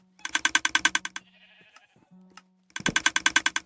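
Minecraft sheep bleat in the video game, two loud close bursts of wavering, rapidly pulsing baa calls separated by a quieter gap with faint game tones.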